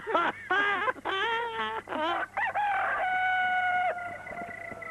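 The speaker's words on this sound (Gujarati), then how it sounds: "લ્યો આ કુકડો બોલ્યો" A rooster crows loudly and close by in a farmyard, a long repeated cock-a-doodle-doo with several rising calls and a drawn-out final note, heard alone without talk.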